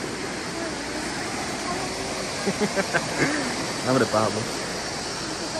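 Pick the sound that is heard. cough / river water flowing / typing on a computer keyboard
river water flowing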